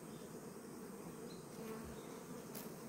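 Honeybees swarming around their hive make a continuous, even buzz, moderately faint and close, with no voices present.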